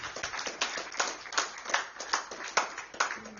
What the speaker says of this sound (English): I really think that your clapping is enough for Sarah.